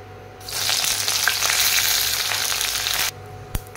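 Hibiscus leaves and flowers hit hot hair oil and set off a loud, steady sizzling frying that runs about two and a half seconds, then cuts out, followed by a single sharp tap.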